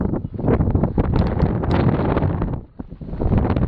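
Strong, steady wind buffets the microphone, roaring and rumbling with brief dips, loud and close throughout, at a site across from Mount Ararat.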